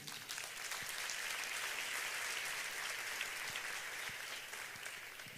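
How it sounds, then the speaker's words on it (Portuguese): A church congregation applauding the Lord, a dense, steady wash of many hands clapping that fills the room throughout, heard from within the crowd. "Você pode aplaudir o Senhor?"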